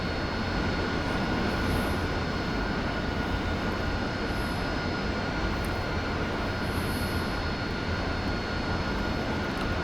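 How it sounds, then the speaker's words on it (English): Jet engine of an aircraft in the DCS flight simulator, making a 50-degree nozzle takeoff on dry power with auto flaps: a loud, steady broadband roar with a high whine on top, unbroken and close throughout. "I'll do a 50-degree nozzle takeoff for just dry power with auto flaps"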